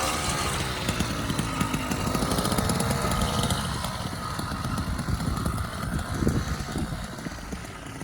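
An 80cc motorized bicycle engine running in a parking lot, a buzzing two-stroke putter rising and falling with the throttle, moderately close and continuous.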